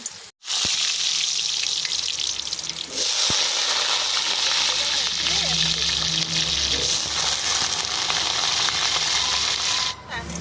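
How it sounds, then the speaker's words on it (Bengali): Potatoes frying in hot oil in a home kitchen for a rohu fish curry, giving a steady, loud hiss and sizzle that runs almost without a break, with a short dip near the start and another near the end, and occasional voices underneath. "আলুগুলো লাল লাল করে ভেজে নিলাম"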